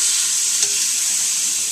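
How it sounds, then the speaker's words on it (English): Chicken sauteing in olive oil in a pan, a close, steady hissing sizzle that carries on without a break. "Now I'm going to add in my chicken."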